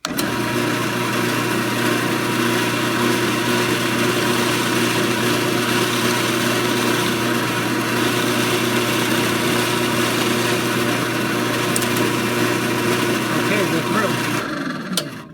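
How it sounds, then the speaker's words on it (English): A drill press drilling a hole in wood hums steadily at high speed, loud and constant, then winds down near the end. "this is in the drill press"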